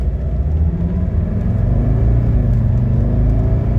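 A 1983 Mercedes 300D accelerates hard in a 0 to 60 run, its engine a loud, steady, close rumble throughout with no talking.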